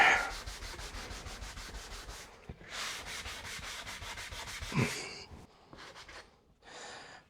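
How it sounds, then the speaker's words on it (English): Rhythmic scratchy rubbing of sandpaper on wooden window rebates, steady back-and-forth strokes close up, pausing briefly and resuming in shorter bursts. "when you are sanding the rebates"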